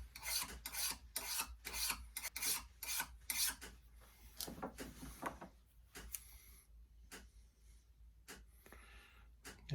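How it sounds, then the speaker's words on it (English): A finer file rasps in quick, rhythmic strokes over a sheep hoof trimmer blade to polish the edge, close and crisp, with the pace slowing and turning more sporadic toward the end. "With a little finer file here, put a polish on it."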